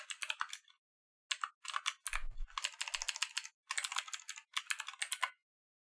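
Rapid clicking keystrokes on a computer keyboard in several quick bursts separated by short pauses, crisp and close in an otherwise quiet room.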